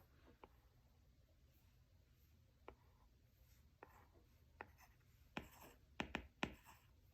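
Pencil scratching on paper while writing out a cash budget, a soft steady rub broken by several sharp scratchy strokes that grow louder and denser toward the end, with no talking.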